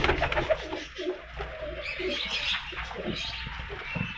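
Pigeons coo repeatedly at close range among a loft of prized fancy birds, soft throaty calls overlapping with faint chirps and a brief wing flutter, with no talking.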